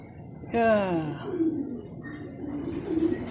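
Racing pigeons at a loft in Prieto Diaz during a club race lap give a short falling call, then soft faint cooing and rustling in a quiet setting.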